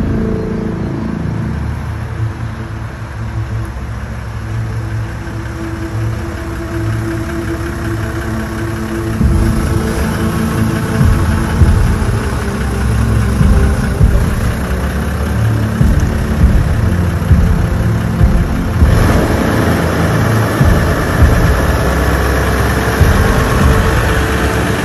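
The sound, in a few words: Toyota Land Cruiser engine idling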